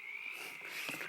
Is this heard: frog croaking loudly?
yes